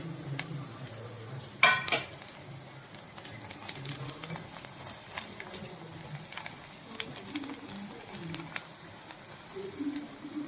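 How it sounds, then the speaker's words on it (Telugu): Whole spices (cloves, a cinnamon stick, cardamom pods and bay leaves) sizzle and stir in a pan of browned onions, a soft steady frying hiss with brief clatters of stirring, for a restaurant-style cashew mushroom curry. "ఉల్లిపాయలు వేగిపోయినాయి కదా ఇప్పుడు ఒక నాలుగు లవంగాలు ఒక చెక్క మూడు యాలక్కాయలు రెండు బిర్యానీ ఆకులు"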